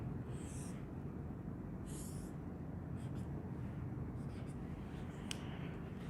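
A pen scratches out a figure on paper or a board during an electrical engineering lesson, with a few short squeaky strokes separated by pauses and soft breathing, close and faint.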